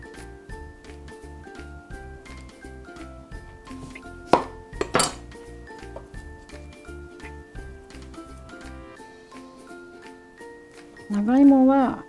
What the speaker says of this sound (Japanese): きゅうりを先に切るね。